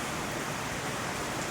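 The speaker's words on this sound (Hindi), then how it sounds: "ये बीच में ना बारिश भी आने लगी थी" Heavy rain pours down in Gwalior as a dense, steady wash of hiss, loud and unbroken throughout with no distinct drops or voices standing out.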